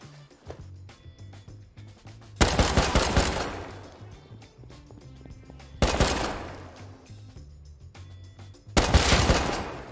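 Three loud bursts of rapid automatic gunfire in the survival game Rust, each a dense volley that cuts off sharply, separated by quieter stretches of low background hum.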